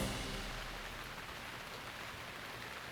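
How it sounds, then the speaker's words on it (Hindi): Steady rain falling, a soft continuous hiss of drops that stays faint and even throughout, with no voices. "बारिश"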